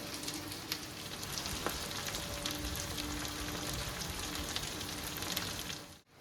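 Green chilli, onion and capsicum frying in a pan for chilli fish, a steady close sizzle with a crackling hiss lasting throughout, cutting off abruptly at the end.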